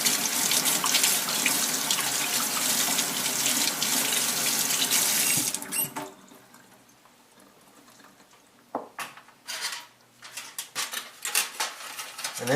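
A kitchen tap runs loudly as a spoon is rinsed under it for about six seconds, then stops, leaving a few quieter clinks and handling sounds close by.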